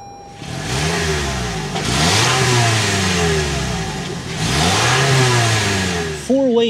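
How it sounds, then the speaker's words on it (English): A 2024 Toyota RAV4 LE engine turns over and rumbles, revving up and down in several deep, throaty swells from the exhaust, close and loud. "start up this bad boy so you can hear that exhaust thump"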